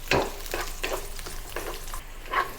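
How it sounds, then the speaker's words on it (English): Onions sizzle in hot oil in a wok while being stirred, with rhythmic scraping bursts over a steady frying hiss, close and moderately loud. "Add some oil into a hot wok. Add the onions and stir fry until slightly brown."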